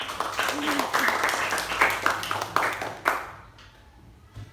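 Elementary-school pupils clap their hands in a classroom, a dense burst of applause mixed with voices that fades out after about three seconds.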